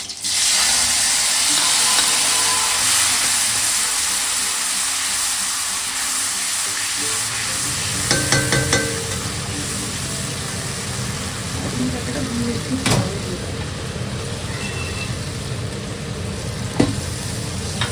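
Nigella seeds and two green chillies hit hot mustard oil for tempering, giving a loud bright sizzle that settles into steady frying, with a few clinks of a utensil partway through.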